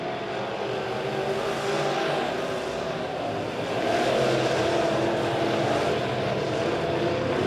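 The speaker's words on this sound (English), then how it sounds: "And I believe that's Josh Paul, the number 14 car, working the bottom of the speedway right there in the number four spot." Modified race cars run at Springfield Raceway speedway, a loud, continuous engine roar of several cars circling the track that stays dense throughout and swells slightly as they come nearer.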